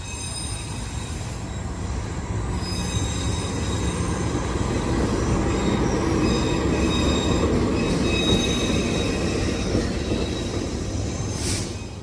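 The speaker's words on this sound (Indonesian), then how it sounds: "Yang masuk adalah kereta api Kertanegara dari stasiun Malang tujuan stasiun Purwokerto" The Kertanegara passenger train from Malang to Purwokerto rolls into a station steadily and loudly, wheels grinding and squealing on the rails with a constant rumble, and no voices.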